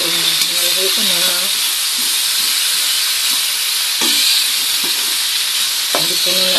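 Galunggong fish frying in a pan at home, a steady bright sizzle and hiss throughout with occasional stirring clinks, while faint voices and background sounds come and go beneath it.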